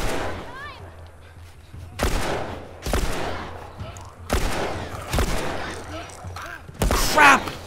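Gunfire in The Last of Us Remastered: several loud, sharp shots spaced a second or so apart, each with a ringing tail, over low game ambience with faint talk.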